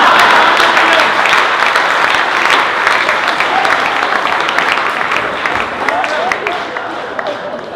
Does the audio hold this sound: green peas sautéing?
no